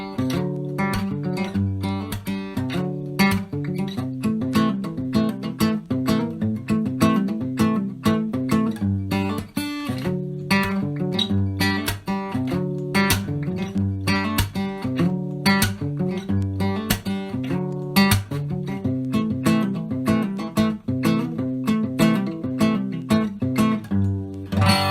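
Fingerstyle acoustic guitar playing a song, a continuous flow of picked notes and chords with a steady rhythmic pulse, close and full, played alone without any voice.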